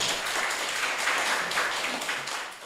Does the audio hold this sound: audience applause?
yes